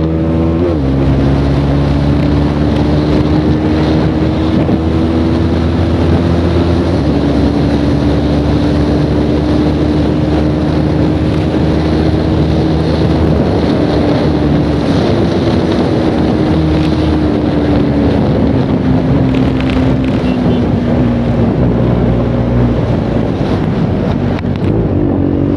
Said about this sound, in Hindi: मैं 150 मारने के लिए भाई मतलब पूरा झुक चुका हूँ, तो हवा बहुत ज़्यादा पड़ रही है बाइक से, और ऊपर से हवा भी चली है तेज